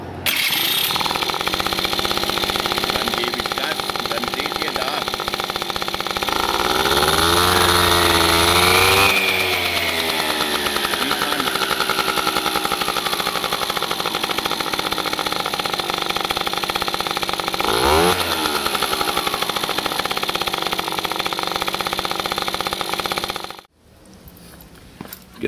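An Italjet scooter engine starts with a rising rev around the middle, then runs loudly and steadily, with a second rev-up before it cuts off near the end.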